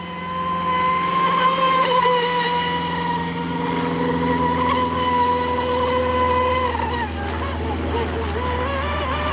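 A Seaducer SD3 FE-30 mono hull RC boat on 4S and 6S power runs across the water with a steady high-pitched electric motor whine, holding constant and then wavering as the hull bounces and turns, with continuous water rush beneath.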